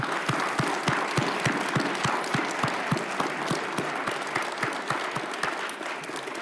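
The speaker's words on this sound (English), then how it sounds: "Let's give these people a round of applause." An audience at a police pinning ceremony claps steadily in a sustained round of applause, many hands at once, fairly loud and continuous from start to finish.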